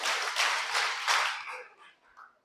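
An audience claps for a speaker at a youth event, a dense burst of applause that swells in waves for over a second, then thins out and fades to a few scattered claps.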